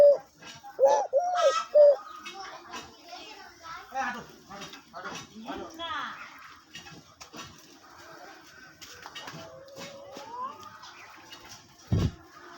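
A decoy hunting bird calls with a few soft, rounded cooing notes at the start, followed by scattered chirps and clicks under people talking nearby.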